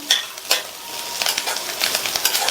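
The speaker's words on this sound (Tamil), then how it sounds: "இதில் ஒரு 4-5 கருவேப்பிலை இலைகளையும் கொஞ்சமாக கொத்தமல்லி இலைகளையும் சேர்த்து நல்லா ஒரு பரட்டி விட்டுக்கலாம்" Curry leaves and coriander leaves are stirred in a frying pan for brinjal chutney: a steady hiss of frying with a few sharp scraping strokes near the start, then lighter, irregular spatula scrapes, close and alone.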